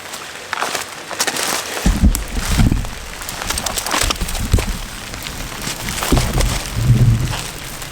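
Steady rain falls outdoors in a dense, continuous hiss with some heavier patters and crackles, fairly loud and close throughout.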